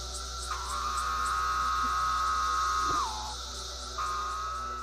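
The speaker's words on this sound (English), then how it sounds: "Magicicada septindecim makes a call that sounds like the word pharaoh" A Magicicada septindecim periodical cicada's steady droning call, said to resemble the word pharaoh, holds one buzzing tone, dips at the end of a phrase, pauses briefly, then starts again.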